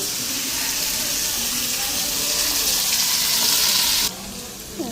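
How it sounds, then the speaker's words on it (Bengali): Steady, loud sizzling of fish frying in hot oil, a continuous crackling hiss that cuts off sharply near the end. "মাছগুলি এক পিঠ ভাজা হয়ে গেছে"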